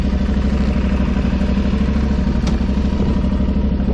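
An Aprilia Tuareg 660 motorcycle engine runs loud and close while riding, a steady low pulsing drone with mechanical clatter that holds constant throughout.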